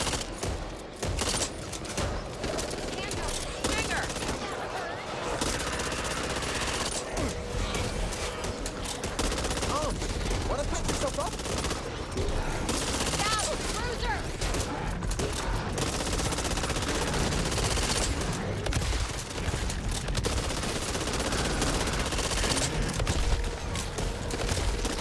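Gunfire in the co-op zombie shooter Back 4 Blood: dense, continuous bursts of automatic weapons fire and explosions during a campaign fight, loud and layered throughout, with a faint voice now and then.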